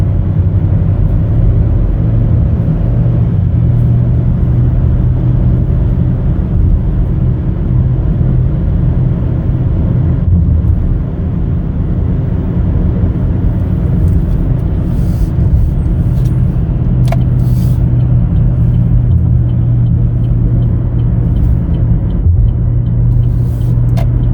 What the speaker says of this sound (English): Let's go ahead and continue our test drive.